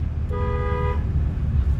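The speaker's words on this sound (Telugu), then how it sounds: "హారన్ చేయండి" A single sustained car horn blast lasting under a second, clear over a steady low engine rumble.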